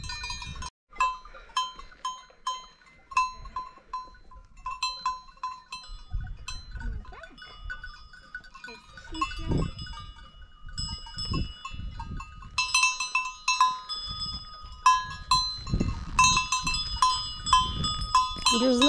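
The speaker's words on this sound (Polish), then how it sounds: "To małe kozy wariatki." Small goats on an Alpine mountainside at Fronalpstock in Switzerland bleat repeatedly at close range while cowbells ring throughout, with people talking nearby at intervals.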